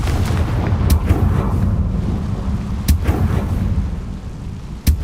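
The Confringo blasting spell in Hogwarts Legacy goes off as a few sharp, loud cracks spaced seconds apart over a steady rumbling game backdrop, with no talk.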